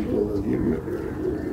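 Khatik-line pigeons from Sialkot give low rolling coos in a short run, close and steady, mixed with a voice talking.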